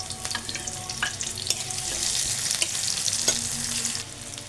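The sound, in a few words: chopped onion and dried chilli frying in mustard oil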